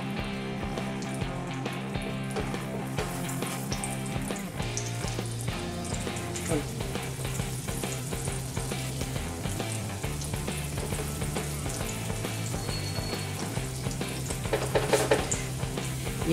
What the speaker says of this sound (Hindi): अब मैं इसमें 3-4 टेबलस्पून घी डालती हूँ, ये मैंने प्योर घी डाला है